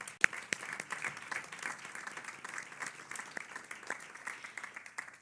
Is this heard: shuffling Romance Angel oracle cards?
no